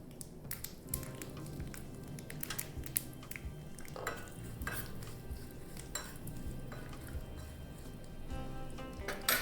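Guntur chillies and curry leaves tempering in hot oil in a small pan, with clinks and scrapes of a metal spoon over a faint sizzle, close up and with no talk.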